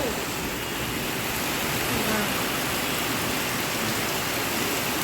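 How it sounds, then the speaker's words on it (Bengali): Heavy rain pours down in a constant, hissing wash of broadband noise that stays even and unbroken throughout. "দেখো কি অবস্থা হচ্ছে বৃষ্টির"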